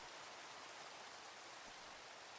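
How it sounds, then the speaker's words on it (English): Rain falls in a C++ Minecraft clone game as a faint, even hiss of steady patter with no breaks or other sounds. "Oh, and starts raining."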